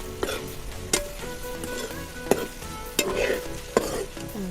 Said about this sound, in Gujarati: હવે નાખી દઈશું ઢોકળા મસાલો બધો મિક્સ કરી દઈએ